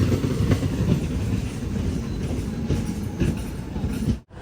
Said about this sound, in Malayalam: നമുക്ക് പോകാനുള്ള ട്രെയിൻ ഇതാ ഇവിടെ എത്തിയിരിക്കുകയാണ്.